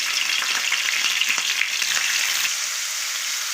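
Marinated chicken fries in a hot pan with star anise and bay leaves, giving a loud, dense, continuous close sizzle with scattered crackles and stirring taps, easing slightly toward the end.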